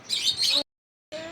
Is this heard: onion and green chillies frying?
no